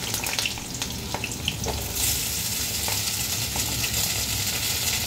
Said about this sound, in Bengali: একটু নাড়াচাড়া করে নিচ্ছি। আঁচ কমানো আছে, জাস্ট একটু ভাজা ভাজা করে নেব।